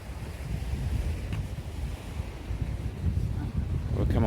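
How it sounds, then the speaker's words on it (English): Ocean surf rolling in beside a boardwalk in Spain, a steady continuous wash of breaking waves with heavy wind buffeting the microphone throughout. "We'll come away from the waves."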